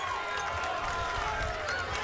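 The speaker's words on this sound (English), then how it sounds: "That got a little bit of murmur out of the crowd here. Got a little bit of clapping from ES Elite." Basketball arena crowd at a six-feet-and-under championship game, a steady murmur with scattered clapping after a missed free throw, a dense continuous wash of voices and hands.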